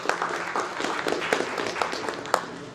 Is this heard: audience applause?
yes